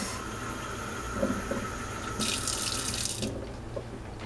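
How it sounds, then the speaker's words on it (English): Warm water running steadily from a kitchen tap into a container, a constant close splashing hiss that grows brighter for about a second mid-clip, with no talking. "I'm going for the warmest that will come out of my tap."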